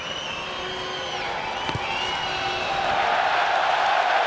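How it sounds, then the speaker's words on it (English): A huge rugby crowd at the Stade de France roars approval after a successful kick in a France versus Argentina match, a broad, loud swell of cheering and whistles that builds steadily toward the end. "the big crowd at Stade de France roar their approval"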